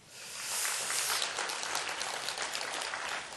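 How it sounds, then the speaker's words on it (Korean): A church congregation applauds during a Sunday service, a broad, soft wash of many hands clapping together, rising quickly and holding steady at a distance. "박수하시고"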